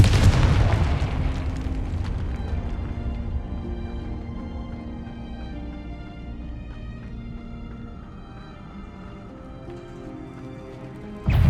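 A Confringo explosion spell in the video game Hogwarts Legacy bursts loudly at the start, its deep rumble slowly fading over several seconds, before another sharp blast hits at the very end.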